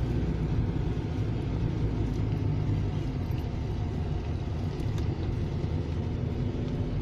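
Steady road traffic on La Salle Avenue in Bacolod City, with tricycles among the vehicles: a continuous low engine rumble of idling and crawling cars, loud and close, without a break and with no talk.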